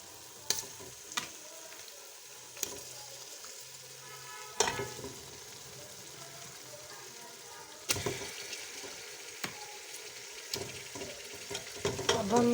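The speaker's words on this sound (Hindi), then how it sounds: "अब हम इसको अच्छी तरह फ्राई कर लेंगे इस मसाले में" Beef pieces frying in a spiced onion, garlic and ginger paste for korma, a steady sizzle with sharp scraping stirs of a spoon against the pan recurring every few seconds, close and moderately loud.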